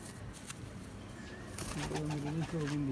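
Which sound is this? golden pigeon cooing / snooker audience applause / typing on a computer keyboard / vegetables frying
golden pigeon cooing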